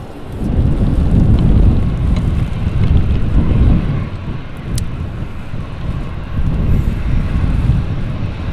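A Jet2 airliner at Manchester Airport, its engine roar a broad, loud, steady rumble mixed with heavy wind noise on the microphone, sustained throughout without voices.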